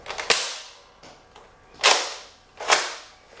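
A Nerf Deploy toy blaster fires with a few sharp, close pops, each followed by a short decaying whoosh, with faint mechanical clicks of priming between shots.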